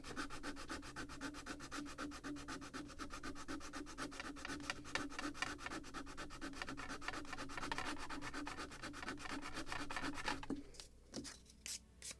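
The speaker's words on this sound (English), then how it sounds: "I think still more sanding of this belly." Sanding a wooden hull belly on a Model Shipways kit of the 1776 gunboat Philadelphia, a steady close, continuous rasping rub with rapid back-and-forth strokes that stops near the end.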